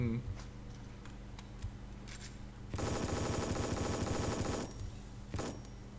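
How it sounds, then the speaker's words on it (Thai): A rapid burst of automatic gunfire rattles for about two seconds at training targets in the mobile FPS game REC.O.R.D, preceded and followed by faint clicks and scattered single shots. "เนี่ยมีเป้าฝึกซ้อมยิงอีกแล้ว ยิงยิงยิง"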